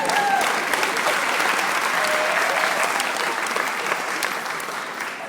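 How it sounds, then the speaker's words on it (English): Wedding guests break into sustained applause at a reception, a dense, loud wash of clapping from a full room that holds steady for several seconds before easing slightly. "Hold for applause."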